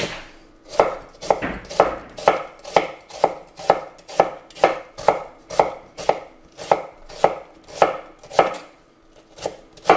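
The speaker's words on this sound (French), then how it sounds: "maintenant on va s'occuper des oignons. C'est simple, on va les couper en deux." A knife chops onions on a board in steady, evenly spaced strokes, close and crisp, with no talking.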